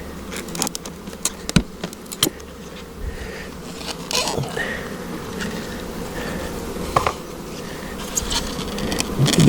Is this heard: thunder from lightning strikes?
no